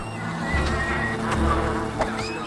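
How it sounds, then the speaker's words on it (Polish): A wasp in the video game Fable: The Lost Chapters, a close, continuous insect buzz that wavers in pitch over a low droning game backdrop. "Wow, to jest jakaś inna osa."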